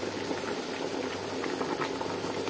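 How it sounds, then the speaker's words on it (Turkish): Steady bubbling and gurgling of a pot of corn at a rolling boil, continuous and close, with soft popping bursts and no talking. "Kırt kırt kaynıyor."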